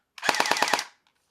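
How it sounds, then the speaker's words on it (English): Short full-auto burst from an airsoft G36 fitted with attached MP7 AEPs, about five rapid evenly spaced shots in under a second, loud and close, then silence. "Okay, so I put this one back together just for S's and G's. It full autos only."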